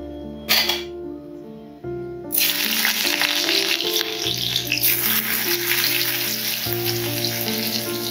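Bottle gourd greens, potato and boiled eggplant hit hot oil tempered with dried red chillies in a pan, bursting into a loud, steady sizzle after a brief clatter, with background music throughout.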